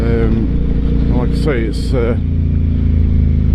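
An Aprilia Shiver 750 motorcycle rides around town, its mid-pitched engine droning steadily and close throughout while someone talks over it.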